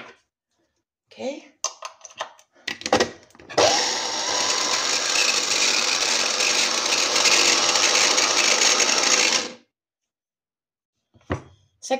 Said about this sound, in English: I start to put now our blender